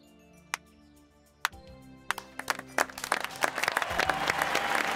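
A few isolated claps at first, then clapping builds into brisk, fuller applause that grows steadily louder toward the end, from a cartoon.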